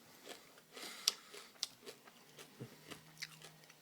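Close, crisp bites and crunchy chewing of almond M&M's chocolate candies, a dozen or so separate crunches in an irregular rhythm, with no talking.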